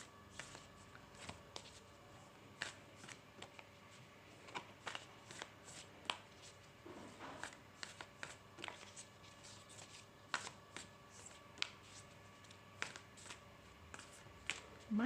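Tarot cards, sticky and clumping, shuffled by hand in quick, quiet, irregular riffles and taps, close and soft, with no talk over them.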